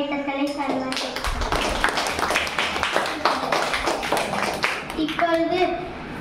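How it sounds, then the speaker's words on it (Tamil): Audience clapping at a school Children's Day celebration, a dense steady patter of many hands filling about five seconds, with children's voices and a brief spoken announcement at the start and end. "அவர்களுக்கு ஒரு பலத்த கைத்தட்டலை தருவார்கள்."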